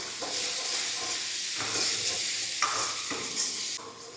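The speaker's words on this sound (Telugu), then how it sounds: "అల్లం వెల్లుల్లి పేస్టు పచ్చివాసన పోయేంత వరకు మనం కలుపుకుందాం." Ginger garlic paste cooking in a pan for a small prawn fry, a loud continuous hiss and sizzle with several distinct stirring sweeps through it, close and steady, no voices.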